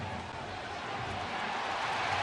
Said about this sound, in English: The crowd reacts.